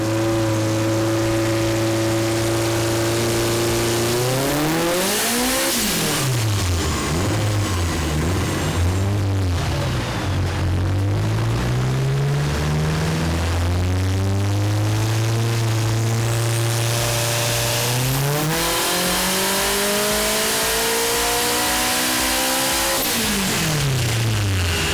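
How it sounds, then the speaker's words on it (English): Tuned Jet 200 car with a Haltech ECU and aftermarket fuel system revving hard on a dyno, engine pitch climbing and dropping through repeated loud sweeps, with no talk. "it was on to the dyno at Croydon Racing Developments, where Jim could work his magic"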